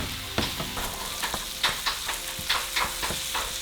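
Seasoned ground beef frying in a pan, a constant sizzle broken by several sharp scrapes and taps as the meat is broken up, close and moderately loud.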